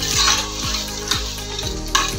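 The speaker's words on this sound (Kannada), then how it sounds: "ಅಕ್ಕಿ ಹಾಕಿದ ಮೇಲೆ ತುಪ್ಪದಲ್ಲಿ 1-2 ನಿಮಿಷ ಫ್ರೈ ಮಾಡ್ಕೊಳ್ಳೋಣ." Washed rice frying in ghee for paneer butter masala ghee rice, a steady loud sizzle with repeated scraping stir strokes roughly every half second, close up with no talking.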